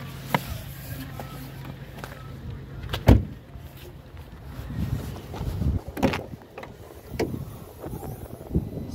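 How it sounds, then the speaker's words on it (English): The bonnet release of a 2019 Volkswagen Passat 1.5 TSI estate is pulled and the bonnet popped open, with a sharp clunk, then scattered clicks, rattles and handling noises of the latch and panel. "I'm going to see under the bonnet now. Pop that open."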